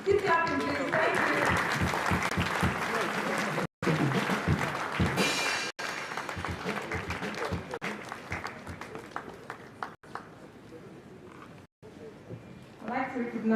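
Sustained applause from a large crowd at a university president's investiture ceremony in Nigeria, loud and continuous with brief breaks, while a voice speaks over it.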